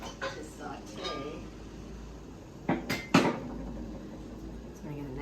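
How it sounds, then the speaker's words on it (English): A stainless steel pan is pulled from a kitchen cupboard with a few sharp metallic clanks and knocks in the middle, amid quieter rustling, close by, with a person's voice also present. "So I get a nice pan, stainless steel pan out"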